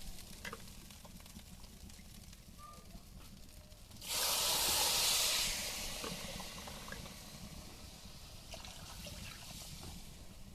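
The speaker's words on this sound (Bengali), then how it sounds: "এখন একটু ঝোল দিব।" Broth splashes into a hot pot of rice fried with spices for egg pulao, a sudden loud hissing rush lasting about two seconds over a low, steady simmering crackle.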